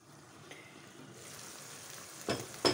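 Onions fry quietly in a terracotta pan, a soft steady sizzle close by, with a couple of brief stirring scrapes near the end.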